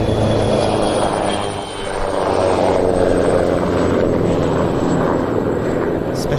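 Airbus H145 LUH-SOF military helicopter at an air show, a loud, continuous rotor and turbine roar that dips briefly then swells again, heard from fairly close outdoors.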